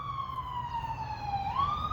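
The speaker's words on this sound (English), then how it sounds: "Ambulance running by there." An ambulance siren passes by on a road near a farm, a loud wailing tone sweeping down then rising again, heard fairly close with no talk.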